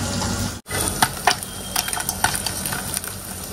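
Onion and garlic frying in a pan, a steady broadband sizzle with scattered crackles and spatter pops, close and moderately loud, briefly dropping out once early on, with no talking.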